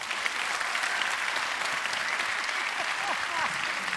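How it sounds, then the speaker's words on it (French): Audience at a live magic show applauding loudly, a dense, even wash of clapping sustained throughout with no breaks. "vous allez voir que le public va vous applaudir une dernière fois très fort"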